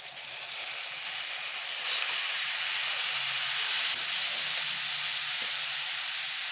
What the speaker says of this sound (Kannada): ಈಗ ಮಶ್ರೂಮ್ ಹಾಕ್ಕೊಳ್ತಾ ಇದ್ದೀನಿ.